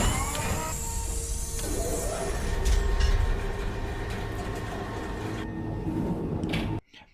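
Train sound effect played during an Astroneer game stream, a steady loud rumble of rolling rail cars with sustained whistle-like tones running throughout, cutting off abruptly near the end.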